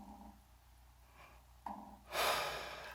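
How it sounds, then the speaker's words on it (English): A deep breathing exercise: quiet, slow breaths, then a sharp intake and a long, loud, airy exhale near the end, close and alone with no talk. "So we start out with a breathing exercise like this."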